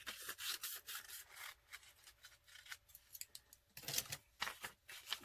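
Close, quiet snipping and rubbing of scissors working through paper, a series of irregular cuts with brief pauses between them.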